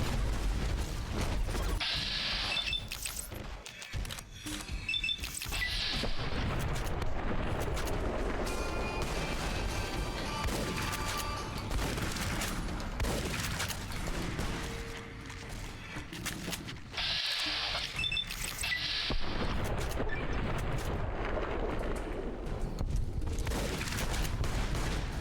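A hunting shotgun fires repeatedly in the game Fallout: New Vegas, with heavy blasts and mechanical pump and reload clatter layered over dense gunfire that runs almost continuously for the whole stretch.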